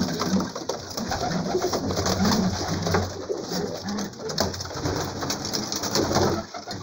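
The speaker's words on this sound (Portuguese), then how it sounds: "Tô vendo um pombo comum ali. Entrou pra dentro do meu pombazinho aqui." Racing pigeons in a home loft coo in repeated low, rolling calls close by, overlapping one another against a constant background hiss.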